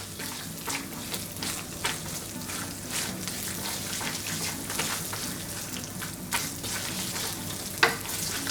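Fennel and cashew nuts frying on high heat in a hot pan for a fish curry, a steady loud sizzle with scattered crackles and stirring clatter, no voices.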